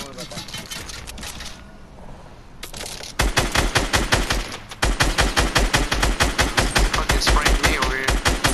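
Rapid video-game gunfire hammers at an enemy base, long automatic bursts of evenly spaced loud shots after a quieter stretch with a short pause between volleys.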